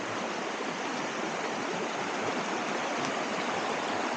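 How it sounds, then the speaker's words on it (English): Steady broadband rush of a stream running beside a campsite, close and continuous with no breaks or voices. "It's not really quiet, it's the stream running"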